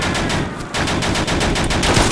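A 20 mm gun fires in a rapid, steady stream of loud, close rounds during a Day of Infamy battle. A brief pause breaks the burst before firing resumes unbroken.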